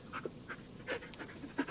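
Bullet the dog panting in Blair Witch, soft quick breathy pants with small whimpering tones in short irregular bursts, close but faint.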